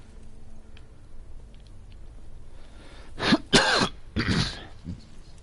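A person coughs and clears their throat, first with faint sounds and then with a few loud, close, rough bursts near the end.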